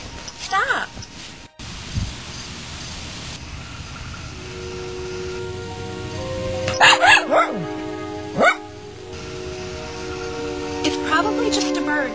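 A dog barks in a few short, sharp bursts partway through, close by, over a low rustling outdoor background.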